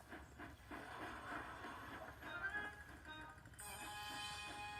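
Animated steam engine chuffing along on a railway, a rhythmic hissing puff with rolling rail rumble that continues throughout, moderately loud, with a brighter hiss toward the end.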